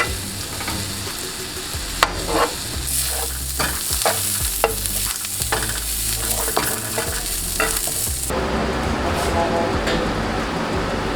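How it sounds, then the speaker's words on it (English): Sliced Beyond plant-based sausage fries in a pan for a vegan jambalaya, giving a steady close sizzle broken by sharp scraping and stirring clatters, with the frying hiss growing denser and more even near the end. "going to cook up this Beyond sausage in the pan real quick"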